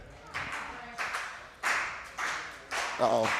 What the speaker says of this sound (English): There's Rome on the outside getting the crowd to clap for his daddy.